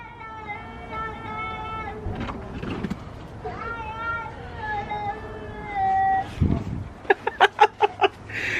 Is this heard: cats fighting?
yes